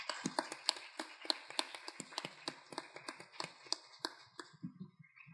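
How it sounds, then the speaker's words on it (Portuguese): Audience applause at the close of a film screening and talk on cinema and mining, a dense, steady patter of many hands clapping for about five seconds, fairly soft and with no one speaking over it. "Aplausos para esse grande filme."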